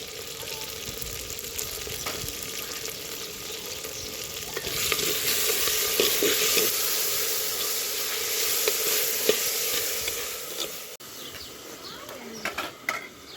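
Tomato, onion and green chilli frying and being stirred in a pan, giving a steady close sizzle with scraping stir strokes, while birds coo faintly in the background and a voice is heard now and then.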